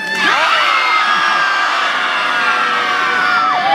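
A circus audience at an outdoor show in Polignano a Mare shouts loudly together, children's voices prominent, in one sustained, rising collective yell that holds at full strength for several seconds.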